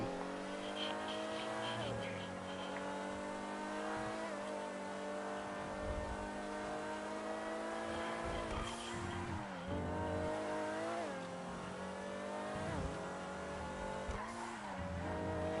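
A car engine in GTA Online drones and revs continuously with rising and falling pitch, sharp gear shifts at intervals, and a synthetic, game-like tone.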